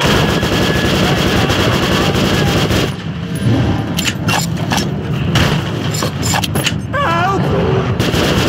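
Dense video-game gunfire in Metro 2033 Redux, with rapid overlapping shots and loud bursts running through the whole stretch, mixed with chaotic battle noise and shouting voices.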